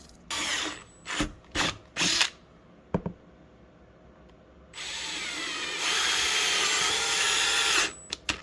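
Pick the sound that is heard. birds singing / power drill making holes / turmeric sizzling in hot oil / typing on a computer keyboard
power drill making holes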